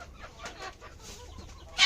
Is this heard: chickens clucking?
yes